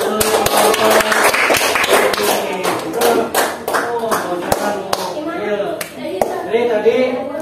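A classroom of students claps together, loud distinct claps ringing out in an irregular run, with children's voices chattering and calling over the clapping throughout.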